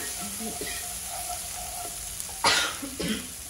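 Turmeric sizzling in hot oil in a pan while making buttermilk rasam, a steady frying hiss with stirring scrapes and a louder sizzling burst near the end.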